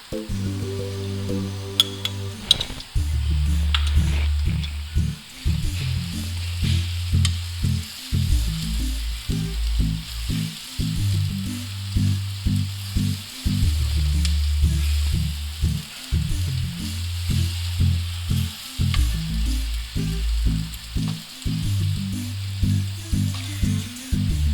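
Ginger garlic paste sizzling in hot oil for katakat kaleji, a steady loud frying hiss with rhythmic scraping and stirring knocks throughout, close up and without speech.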